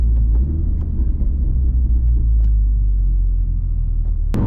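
A 2016 MINI JCW with a six-speed manual drones under load with a steady low engine rumble, faint crackling exhaust pops scattered through it and a sharp snap at the very end.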